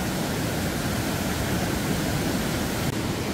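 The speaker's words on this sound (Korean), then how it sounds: "물이 위에서 내려오는데 완전 여기 폭포예요." Waterfall in Bansagol Valley on Jirisan mountain, a steady, loud, broadband rushing of falling water that fills the whole stretch without pause or voices.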